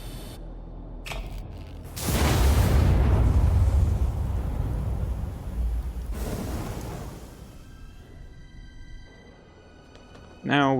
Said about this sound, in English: someone would have heard that explosion